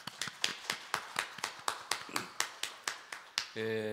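Rhythmic clapping at a Korean Buddhist Wednesday service, about fifteen crisp claps at a steady even beat, fairly close, followed by a brief sustained musical tone at the end.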